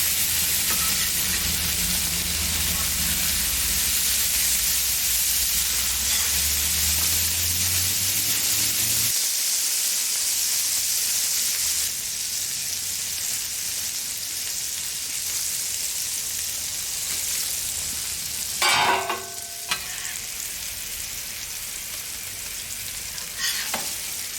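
A burger patty coated in mustard fries on a griddle with a steady, loud sizzle throughout, while a few brief scraping and clanking sounds break through near the end.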